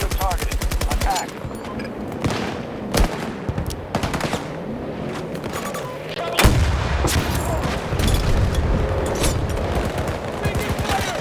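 Gunfire and artillery in the video game Battlefield 2048: dense rapid volleys of shots, with loud booming blasts that keep the sound constantly loud, and game voices calling out in between.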